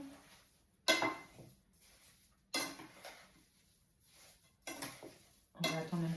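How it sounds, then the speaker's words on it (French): A spoon stirring Christmas pear jam in a pot, with four separate bursts of scraping and clinking against the metal, each followed by quiet pauses. "Je mélange."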